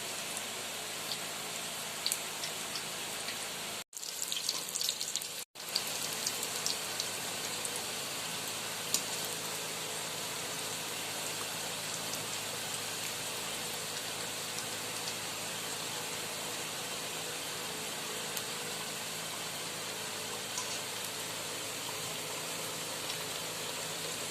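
Steady rain falls throughout, a dense even hiss of drops with two brief dropouts near the start and no voices.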